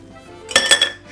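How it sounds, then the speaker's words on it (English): A large ice cube clinks into a cocktail glass while a rye whiskey cocktail is being made, giving a short bright cluster of glassy clinks and rattles, close and alone. "Grab large ice cube,"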